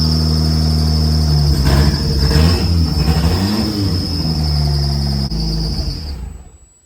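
A turbocharged Chevrolet Cavalier engine, throttle cracked open and running untuned, roars loud and steady through a crazy exhaust with a piercing high whine, then cuts off and fades at the end, no talking.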